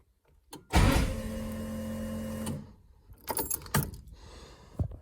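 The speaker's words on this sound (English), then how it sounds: "you can hear the fuel pump" A Mk1 Ford Escort RS2000's fuel pump primes with a steady electric whine for about two seconds after a click, then stops, followed by a few rattling clicks and knocks nearby.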